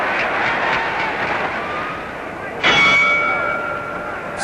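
A boxing ring bell rings once to end a round at a heavyweight bout, its tone ringing out over loud crowd noise and a commentator's voice.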